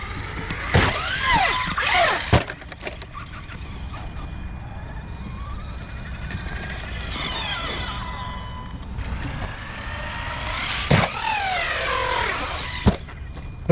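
Typhon 223S RC truggy electric motor whining and revving up and down in bursts with rising and falling pitch, mixed with clattering and rattling from the chassis. The motor sounds underpowered.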